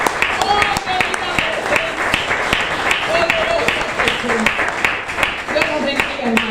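A church congregation claps during a worship service, sustained and fairly close, while a voice keeps talking or singing over the applause.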